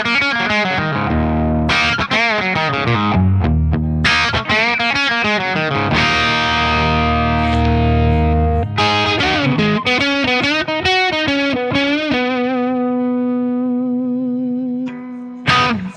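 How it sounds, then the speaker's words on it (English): Electric guitar played through a Friedman Jose amplifier in Plex mode, loud and distorted with a saturated crunch, mixing chords and lead lines, ending on a sustained held note and a brief final strum. "the beautiful Plex mode on this Jose sounds like this"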